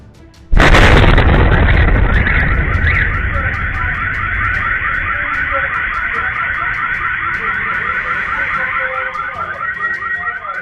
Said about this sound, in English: Large explosions in Rostov, Russia